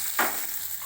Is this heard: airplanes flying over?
no